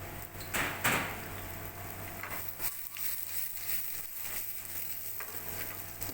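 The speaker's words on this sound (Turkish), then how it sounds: "Bu katmış olduğunuz ayçiçeğin içerisine daha önce doğramış olduğumuz soğan ve sarımsağı hafiften hafiften bir kavuracağız arkadaşlar." Chopped onion and garlic fry in sunflower oil with a steady close sizzle, broken by a few clattering stirs of the pan.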